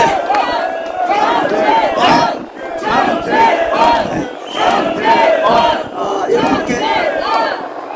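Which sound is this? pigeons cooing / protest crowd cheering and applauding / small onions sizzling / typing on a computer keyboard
protest crowd cheering and applauding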